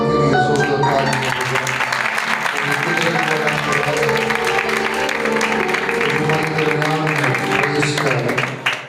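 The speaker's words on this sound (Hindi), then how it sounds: "उनके जलाल के लिए जोरदार तालियां" A church congregation applauds steadily, with loud, continuous clapping that fills several seconds and runs under a sustained musical backing before fading out at the end.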